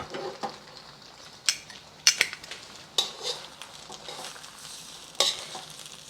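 Cooked al dente pasta is tossed with tongs in garlic butter in a pan, with a low sizzle under sharp intermittent metallic clicks and clatters of the tongs against the pan.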